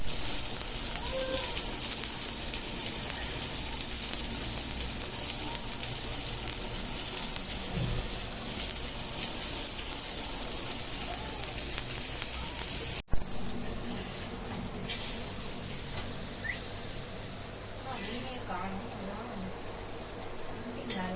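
Fish pieces, green- and red-coloured, fry in a pan with a loud, steady sizzle and hiss that runs throughout, with a brief clatter midway and faint voices underneath.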